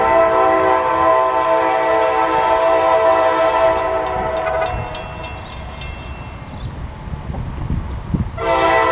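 A loud, sustained freight train horn blares for several seconds and then fades. Rumbling wheels of the passing intermodal train clatter on, and a second horn blast cuts in at the very end, in Marion, Ohio.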